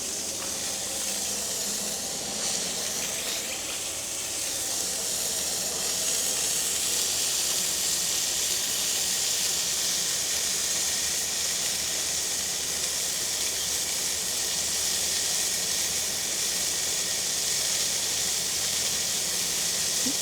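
Continuous, steady sizzling hiss of burgers cooking on a grill, fairly close and unbroken throughout, with no voices.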